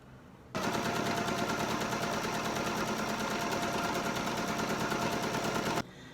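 A sewing machine stitches a decorative pattern along a bucket hat brim, a loud, steady rapid chatter running continuously for several seconds before stopping abruptly.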